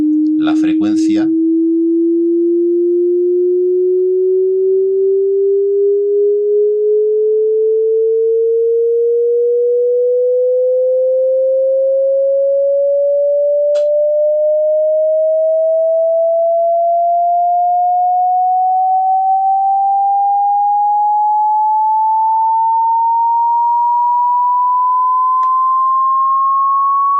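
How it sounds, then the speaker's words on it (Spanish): A single pure sine wave tone gliding smoothly and continuously upward in pitch for nearly half a minute, loud and steady, with a brief burst of noise at the start. "cada vez notáis que el ruido, el sonido de fondo es más agudo. Va cambiando la frecuencia."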